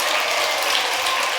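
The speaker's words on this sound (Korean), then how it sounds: "좀 잘하겠다고 다짐을 하려면 박수를 좀 화끈하게 쳐보십시오." Audience applause at a Buddhist dharma assembly in a temple hall, dense rapid clapping from many people, loud and continuous with no talking over it.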